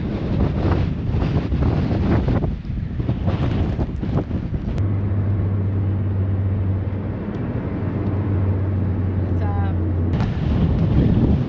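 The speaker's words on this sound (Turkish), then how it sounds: "Feci bir rüzgar var." Loud, constant wind buffeting the microphone in the Patagonian desert, a heavy roar with gusts, and a low steady hum running beneath part of it.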